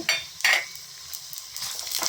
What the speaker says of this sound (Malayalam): ഈ കൊണ്ടാട്ട മുളക് ഞാൻ ഈ ചട്ടിയിലോട്ട് ഇട്ട് കൊടുക്കുകയാണ്